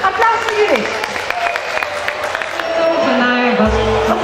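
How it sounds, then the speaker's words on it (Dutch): An outdoor crowd at a street magic show on a town square breaks into applause and some cheering, with voices and other sounds mixed in around the clapping. "Applaus voor Judith."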